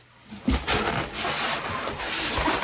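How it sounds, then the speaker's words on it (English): Styrofoam packing is pulled and rubbed while a Brother LB5500 embroidery and sewing machine is unboxed, giving close, continuous squeaky scraping with a few louder knocks. "that styrofoam noise is too much"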